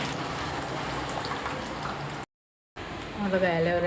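A chopped aloe vera leaf is rinsed in water, with steady close splashing and trickling that cuts out briefly before resuming with heavier sloshing.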